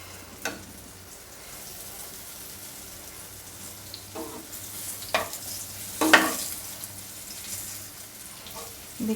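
Paneer bread pakora frying in butter, a faint soft sizzle with a few louder clatters and scrapes from a spoon or pan, no talking.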